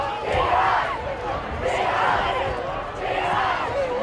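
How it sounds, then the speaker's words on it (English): Fans at a varsity high school football game chant in rhythmic waves, three swelling crowd roars in a row, steady and moderately loud from the stands. "You can hear the crowd roaring T-Hawks"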